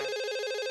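A telephone rings in a Telugu animated cartoon, one short loud electronic trill heard alone.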